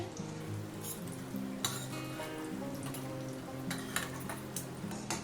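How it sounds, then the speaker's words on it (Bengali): Paneer fries lightly in a pan with a soft, steady sizzle and occasional crackles and utensil clinks, fairly quiet and without talk. "হালকা একটু ভেজে নেব"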